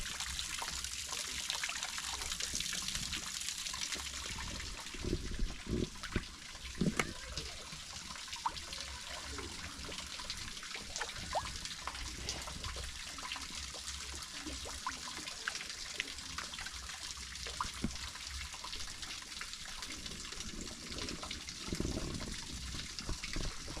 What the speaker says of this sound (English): you can control the water that's flowing from this side